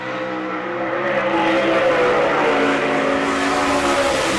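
Sprint car racing on the Selinsgrove dirt track at an All Star Circuit of Champions event: a loud, sustained engine roar with shifting pitch as cars run the oval, steady and dense throughout.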